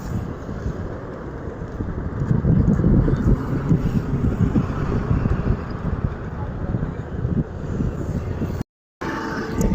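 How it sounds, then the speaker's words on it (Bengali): Strong wind buffets the microphone on a bridge over the Karnaphuli river, a continuous low roar with faint traffic rumble beneath. "কর্ণফুলি ব্রিজে দাঁড়ালে প্রচুর বাতাস"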